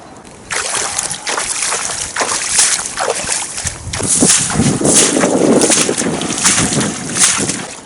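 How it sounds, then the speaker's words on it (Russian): Splashing, sloshing steps through swamp water come in uneven bursts, with wind buffeting the microphone and water churning louder toward the end. "Поэтому булькаем дальше по болоту."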